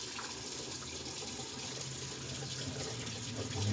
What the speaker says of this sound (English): Now we're going to just get some cold water, kind of dump that hot water off of there.